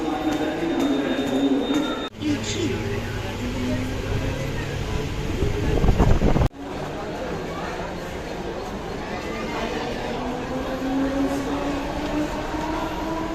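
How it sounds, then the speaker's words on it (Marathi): A train runs at platform 3 of a busy railway station, with continuous rumbling and clattering, wheel squeal rising and falling, and a few sharp knocks, while people talk faintly nearby. "आणि आहे आपली ट्रेन 3 नंबरवरती."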